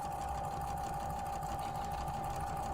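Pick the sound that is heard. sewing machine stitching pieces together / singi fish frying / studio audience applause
sewing machine stitching pieces together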